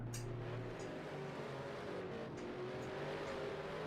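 A lapped race car drones past at Snetterton in a racing game, a steady, faint engine note with slowly shifting pitch under continuous track noise, with no sharp events.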